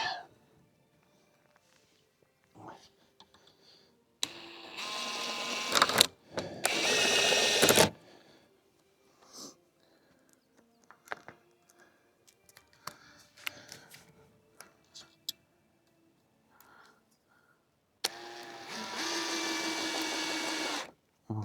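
Power drill driving screws into wooden playground parts, a few loud whirring bursts of about two to three seconds each, separated by quiet handling noises, close by.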